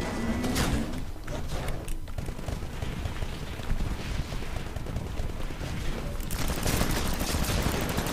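Gunfire from a Smart Pistol in the Titanfall game crackles amid a dense, chaotic battle soundscape, with rapid shots and booming explosions blending into a constant loud roar.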